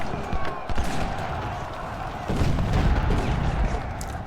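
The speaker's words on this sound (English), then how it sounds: "Artillery to start firing." Artillery cannons fire in the Civil War strategy game Ultimate General: Civil War, a broad rumbling barrage that swells louder partway through, with speech faintly in the mix.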